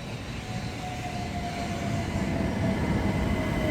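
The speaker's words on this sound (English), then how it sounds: "Here comes the train my train." A train draws into Brixton station in London, its low rumble and rail noise swelling steadily louder as it approaches, with a faint high whine running over the roar and no talking.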